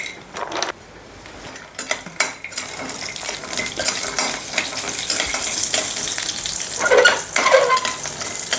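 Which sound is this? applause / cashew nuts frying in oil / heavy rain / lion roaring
cashew nuts frying in oil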